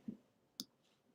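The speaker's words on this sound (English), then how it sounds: "what the heck is wrong with my freaking keyboard?" Three isolated clicks from a computer keyboard, evenly spaced about half a second apart, close but quiet against a silent background.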